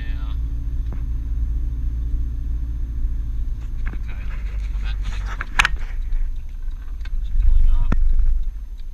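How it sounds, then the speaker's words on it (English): Inside a moving car on the way to a property, a steady low engine and road rumble runs throughout, with a few faint clicks and a louder swell near the end. "So what I'm doing, I'm driving to my next property."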